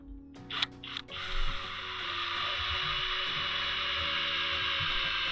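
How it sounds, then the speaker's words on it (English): Screws driven into a travel trailer roof, a few sharp clacks and then a sustained, close mechanical whir of a driver that holds for several seconds. "I'm going to screw these into the roof."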